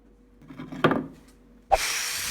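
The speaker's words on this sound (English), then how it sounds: "3 little tabs hold the workpiece in place and they have to be removed with a chisel." A chisel cutting away small wooden tabs holding a workpiece for a giant folding Christmas tree: a short woody scrape and crack, then a sharp knock followed by a sustained hissing rasp, close by and alone.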